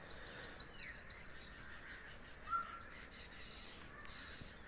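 Starlings perched on date palms in a village chatter with quick, high chirps and calls, scattered bursts at moderate distance over a faint outdoor background.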